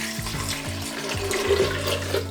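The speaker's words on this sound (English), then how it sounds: "Okay, so next we're gonna add 2 cups of coconut water." Two cups of coconut water poured from a container for ginger shots, a steady liquid stream with rising glugging pulses, close and alone.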